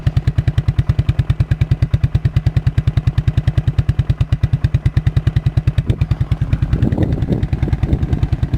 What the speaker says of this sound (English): It's idling really fucking low.